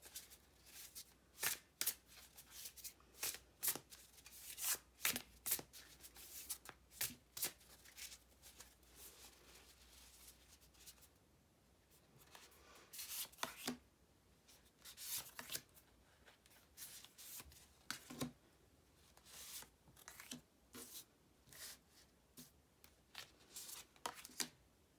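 Guardian of the Night tarot cards being shuffled by hand in quick, irregular riffling bursts, close and crisp, with brief pauses between handfuls and no talking.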